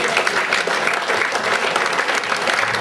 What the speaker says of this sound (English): I just give him a round of applause,